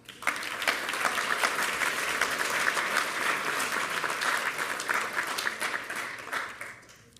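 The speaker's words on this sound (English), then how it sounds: "let's give them a round of applause" Sustained audience applause at a technology center awards ceremony, a dense wash of many hands clapping that holds steady for several seconds before tapering off at the end.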